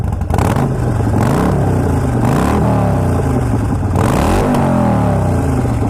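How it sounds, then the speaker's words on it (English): Harley-Davidson Sportster 1200 Iron motorcycle engine, 2018 model, revved several times in a row, each loud, deep blip rising and falling over a steady close idle with no talking. "So let's give it a rev, a brap brap."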